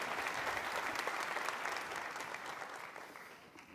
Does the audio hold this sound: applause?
yes